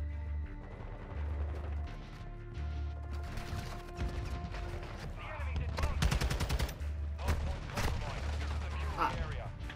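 Rapid bursts of gunfire from a multiplayer shooter video game, with repeated loud automatic volleys and single shots layered over a steady game soundscape, under frantic voice chat.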